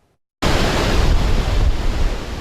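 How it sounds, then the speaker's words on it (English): Cumberland Falls, a big waterfall in a southern Kentucky state park, gives a steady, loud, broadband roar of rushing water that starts abruptly after a moment of silence and holds constant with no voices. "A lot of people come here just to look at a really big waterfall."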